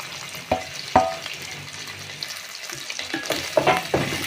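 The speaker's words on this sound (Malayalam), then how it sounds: "ഇത് വഴറ്റിയെടുക്കട്ടെ ഇതെല്ലാം പച്ചമുളക് എല്ലാം ഒന്ന് വാട്ടിയിട്ടുണ്ട്" Green chillies and curry leaves sautéing in a pan give a soft, low sizzle, broken by a few sharp spoon scrapes and clinks as they are stirred, close by and fairly quiet.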